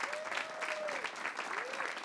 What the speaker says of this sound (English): Let's give him a round of applause, our own Joe Donahue.